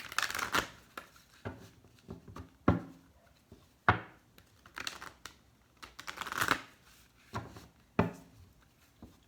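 A tarot deck being shuffled and split, with repeated riffling and slapping bursts of cards at an irregular rhythm, close and fairly quiet, no talking.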